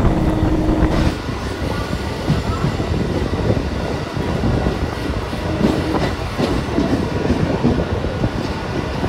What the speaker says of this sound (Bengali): দেখো কৃষ্ণনগর শিয়ালদা গ্যালোপিং লোকালকে আমরা ওভারটেক করছি